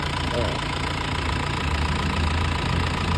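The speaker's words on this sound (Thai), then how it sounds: "เครื่องยนต์เดินนิ่งๆ" A car engine idles steadily and smoothly, a low constant hum with a faint rhythmic knock, running without change throughout.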